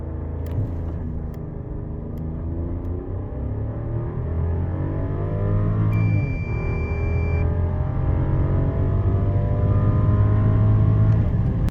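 Rolls-Royce Cullinan Series II SUV with its 6.75-litre V12 pulling hard from a standstill during a road test, a deep steady engine roar whose pitch climbs through the gears and stays loud and close throughout.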